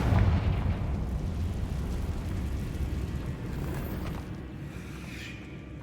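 Fiery blast from the Confringo spell in Hogwarts Legacy, a loud dense rumble that hits at once and slowly dies away over several seconds.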